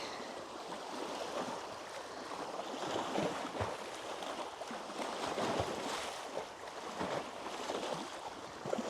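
Water of Lake Marion washes and laps at the shoreline close by, a soft continuous splashing with small irregular surges and light wind, no voices.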